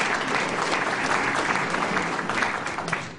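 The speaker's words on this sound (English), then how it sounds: "So can we give him a round of applause?" A crowd claps steadily in dense, sustained applause that fades slightly toward the end.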